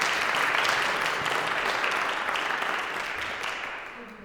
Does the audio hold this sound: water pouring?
no